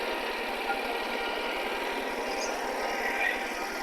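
Isuzu 1.8-litre four-cylinder diesel on a swap-meet vehicle with a 3-speed, running at a steady idle with a fast, even low thrum and broadband clatter, close and continuous.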